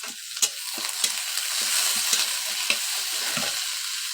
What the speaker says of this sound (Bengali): আমার পেঁয়াজটা একটু হালকা হালকা ভাজা হয়ে গেছে